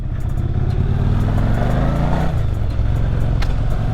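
A 1985 Yamaha Virago 1000 V-twin motorcycle engine runs loud and steady while riding through a turnabout, its low throbbing drone easing in pitch midway, recorded close with no talk.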